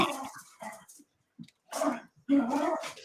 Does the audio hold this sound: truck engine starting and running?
no